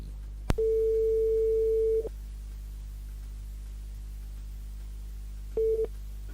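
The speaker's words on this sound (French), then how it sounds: "On appelle Valencia du côté de la plaine des Palmistes cet après-midi." A telephone call goes out during a live radio show: one long, steady tone sounds for about a second and a half, then silence, then a shorter tone begins. The tones are clear and close, with no voices.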